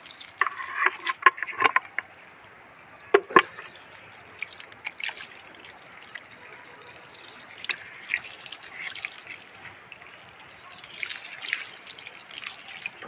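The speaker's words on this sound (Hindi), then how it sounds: "और यहाँ पे पानी आ गया।" Water trickles and splashes over freshly pulled round farm radishes being rinsed outdoors in rural Uttarakhand, with uneven patters and drips and a few louder splashes, no talking.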